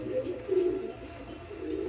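Pigeons cooing in a loft, a low soft burbling coo that swells and fades in gentle repeated phrases, close by, with no speech.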